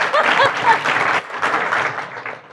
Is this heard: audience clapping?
yes